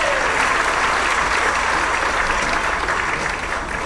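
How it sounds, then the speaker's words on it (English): Audience at a 4th and 5th grade school band and string concert gives loud, dense applause for the drummers and percussionists, a close, continuous roar of clapping that eases slightly at the end. "Round of applause for our drummers, our percussionists."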